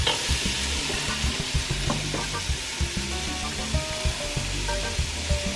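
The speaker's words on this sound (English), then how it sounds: "saute for 3 to 4 minutes, searing pork on all sides" Pork sears and sizzles steadily in hot oil for a Mexican pozole, with a dense continuous frying hiss broken by repeated scraping stirs near the pan.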